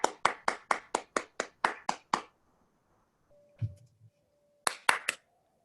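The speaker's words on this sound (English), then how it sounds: "One lone applause is very, very encouraging." A single person claps during a Zoom meeting: about nine sharp, evenly spaced claps close to the mic, then a pause with a faint tone and a brief murmur, then three more claps.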